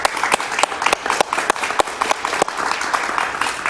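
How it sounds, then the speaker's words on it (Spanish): Studio audience applause welcomes a guest on a television talk show, a loud, close burst of clapping with sharp individual claps standing out, sustained steadily without speech. "Un aplauso para él, por favor."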